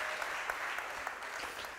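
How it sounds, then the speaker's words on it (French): An audience claps at a regional final of Ma Thèse en 180 secondes, a brief steady wash of applause with a few distinct claps popping out. "c'est Diabetland qui vous applaudit"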